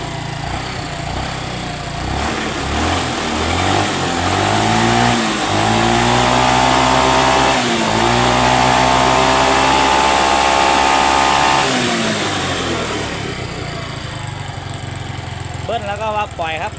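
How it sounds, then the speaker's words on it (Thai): A repaired Yamaha Fino scooter engine is revved, climbing and holding high, dipping briefly, revving again, then settling back to idle, with someone talking over it. "เดี๋ยวตอนนี้ก็จะเบิ้ลให้ดูครับ"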